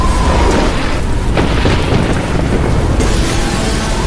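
Lightning strikes an airplane with a loud, heavy thunderous roar, a continuous booming rumble that fills the whole moment without a break.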